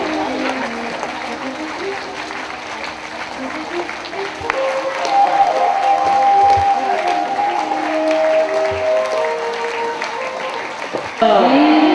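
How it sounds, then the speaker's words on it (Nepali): Audience applause at a Nepali assembly: sustained clapping from a crowd running under a voice speaking through a loudspeaker, with some cheering. "ताली बजाइरहँ ताली बजाइरहँ"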